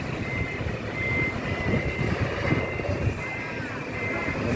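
A Sinar Jaya Patas bus reverses into a parking spot in front of a ticket counter, its engine rumbling steadily up close while faint, intermittent reversing beeps sound above it.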